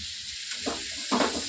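Chochchori, a Bengali mixed vegetable dish, sizzles quietly in a pan, holding as a steady frying hiss with a few soft stirring scrapes. No one speaks.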